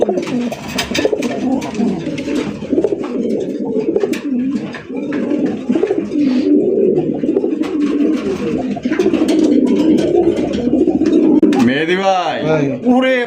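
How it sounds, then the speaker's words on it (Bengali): Red Raj Golla fancy pigeons coo in repeated rolling calls close by, steady throughout, with someone talking over them and a louder, nearer coo swelling near the end. "লাল কালারের টুকটুকা রাজগোল্লা কবুতর"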